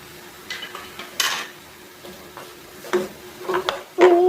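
Spices being stirred into bottle gourd and chana dal in a metal pot, with irregular spoon scrapes and clanks against the rim over a quiet sizzle.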